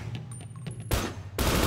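Gunfire in the GTA RP video game, rapid pops, then two dense, loud bursts of shots close up, with no talking.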